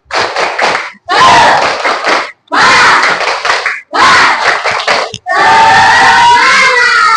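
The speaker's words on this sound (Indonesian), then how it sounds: "Yuk kita tepuk semangat dulu." A classroom of children performs the Indonesian 'tepuk semangat' clap chant, loud bursts of rhythmic clapping and shouted chanting in four or five phrases separated by brief pauses, ending in a longer cheer.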